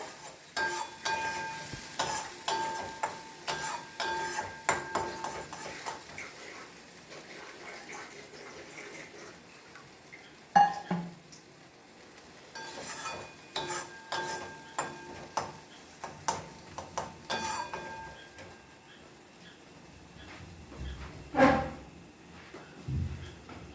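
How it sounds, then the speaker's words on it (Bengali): Masala frying in a pan with a splash of water, soft sizzling under frequent scraping and clinking strokes of a spatula, close and moderately quiet, the stirring coming in irregular bursts. "মশলাটা ভালোভাবে কষিয়ে নেব"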